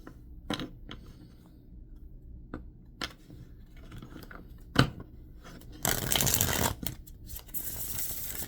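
A tarot deck is shuffled by hand, sparse snaps and taps of cards giving way to a louder riffling burst near the end, close and fairly quiet.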